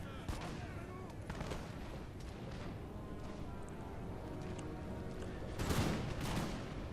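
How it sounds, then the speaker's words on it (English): Musket volleys and battlefield gunfire from a Napoleon Total War online battle crackle continuously at a distance, with a louder burst of fire near the end under a low background din. "So we got fairly good volleys off on them."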